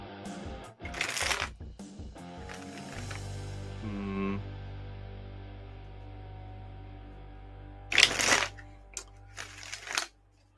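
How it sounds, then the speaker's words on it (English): A Rider-Waite-Smith tarot deck is riffled and shuffled close up in two quick bursts, the papery flutter separated by a steady low hum and quiet pauses. "I do want to shuffle the tarot, shuffle Rider-Waite-Smith deck"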